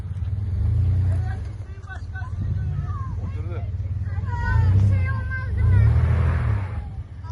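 An off-road car's engine revs in repeated surges while climbing rough terrain, loud and close, rising and falling under excited shouting voices.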